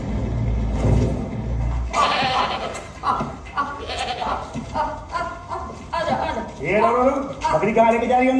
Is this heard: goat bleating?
yes